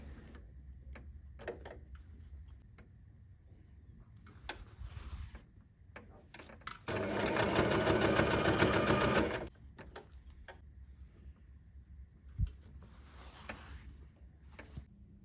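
A sewing machine stitches the middle line of a tote bag panel in one steady burst of rapid mechanical chatter lasting a few seconds, framed by quiet room noise and small clicks of handling fabric.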